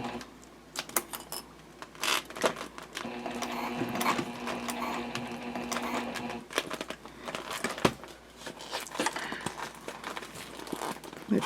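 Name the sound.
sewing machine stitching jelly vinyl pouch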